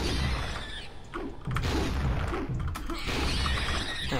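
Weapon fire against Leapers in Turok: Dinosaur Hunter, loud booming shots and crashing impacts, dense and back to back with a brief dip midway, game effects filling the whole stretch.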